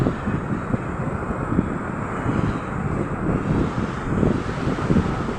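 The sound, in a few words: wind and sea waves on beach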